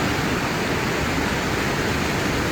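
Rushing flash-flood water carrying debris through Red Rock Canyon on the Ice Box Trail, a loud, unbroken roar of churning water close by, with no voices.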